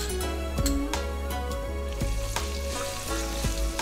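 Minced ginger and garlic sauté in a tablespoon of oil in a wok, giving a loud, steady sizzle with scattered sharp crackles and pops. No voices are heard.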